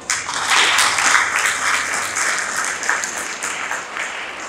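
A seated audience claps in unison, a bright, dense burst of applause that stays fairly level before easing slightly toward the end, with no talk over it.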